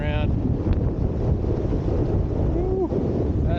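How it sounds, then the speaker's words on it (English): A strong gust of wind roars against the microphone while wing foiling on open water, a constant heavy buffeting rush with water noise, loud and close throughout. "Woo, that's a good gust."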